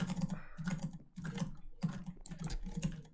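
Computer keyboard typing during a Minecraft Hypixel game, heard as bursts of rapid key clatter in a steady, fairly loud rhythm with brief pauses between runs.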